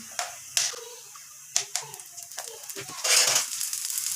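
Oil poured into a pan and a besan-coated roti frying, with several sharp sizzling crackles and spits followed by a louder, sustained hiss of frying near the end, close and fairly quiet.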